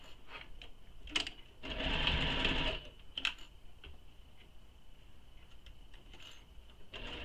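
A domestic sewing machine runs a steady stitching burst for about a second while sewing a handbag seam, framed by quiet clicks and handling noises before and after.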